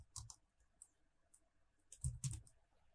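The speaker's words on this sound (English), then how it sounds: "So once you've done that, you just type in refund" Quiet, close computer keyboard typing during Power BI work, a few scattered key clicks followed by a short quick burst of keystrokes.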